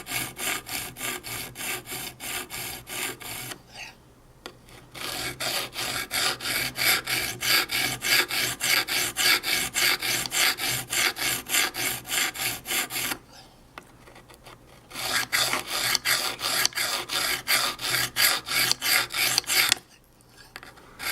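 A knife is drawn over an extra coarse sharpening stone in long, steady rasping strokes, close up, with two short pauses between runs of strokes.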